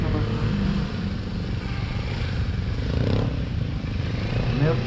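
A Kawasaki Versys 650 on a gymkhana course runs on the throttle, its engine droning steadily close by with a brief rise in pitch as it accelerates near the end.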